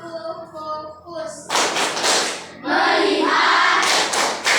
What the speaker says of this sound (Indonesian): Tepuk fokus terlebih dahulu.